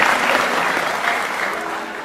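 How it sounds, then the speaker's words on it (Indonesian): Studio audience applause at an Indonesian comedy impersonation show, a dense, steady wash of many hands clapping close up that fades slightly toward the end. "Boleh tepuk tangan untuk mereka."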